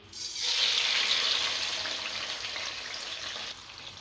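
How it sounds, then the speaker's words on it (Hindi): Finely chopped tomatoes hit mildly heated oil in a pan, a bright steady sizzle that swells quickly and settles into continuous close crackling with no talk. "अब हम ये टमाटर ऑयल के अंदर डाल देंगे।"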